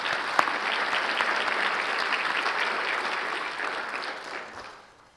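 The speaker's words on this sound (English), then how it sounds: "Can we give one more round of applause to the Crystal Apple Committee, Mr. Gall, and the D11 board members?" An audience applauds the Crystal Apple Committee, Mr. Gall and the D11 board members at the 2024 Crystal Apple Awards. Dense, steady clapping from many hands holds for about four seconds, then fades out.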